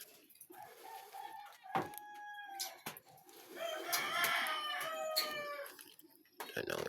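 Caged chickens and other birds on a farm, with a rooster crowing and hens clucking in clear bursts nearby. A voice talks faintly among them.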